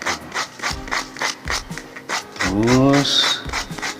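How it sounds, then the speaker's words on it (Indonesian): Sandpaper rubs back and forth on the edge of a ring made of dried banana leaf, a steady scratchy rhythm close by, with a voice speaking briefly over it. "jadi sisi ini dan sisi ini kita amplas."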